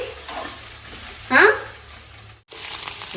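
Okra and green chillies fry in a pan with a steady low sizzle, a louder burst of crackling as they are stirred midway, then the frying settles back to a soft hiss.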